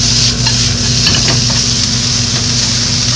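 Bamboo shoots and shiitake mushrooms sizzle steadily as they are stir-fried in a hot pan, with a continuous loud frying hiss and occasional scraping stirs throughout.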